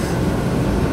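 Steady rumble of a Brasília Metro Line 1 (Green) series 1000 train while riding inside, a dense low-frequency roar that holds constant and fairly loud throughout without speech.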